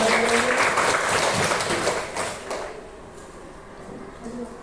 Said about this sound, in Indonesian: tepuk tangan buat teman kita Rokan ini